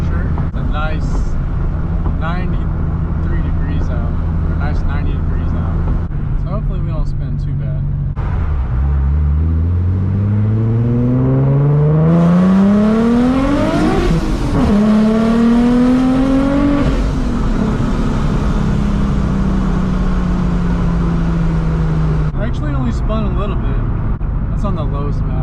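Boosted Nissan 370Z making over 600 whp, its engine loud and close, idling then sweeping up through a hard rev under power before easing back down, with voices talking over it.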